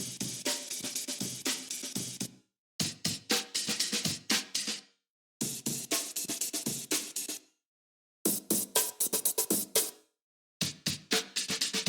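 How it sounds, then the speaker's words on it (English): Five amen drum breaks play layered at different pitches through an effects chain, a dense, busy rhythm of snares and cymbals cut into four bursts separated by short silent gaps. "This is a layer of 5 amen breaks playing at the same time. They're just done at different pitches."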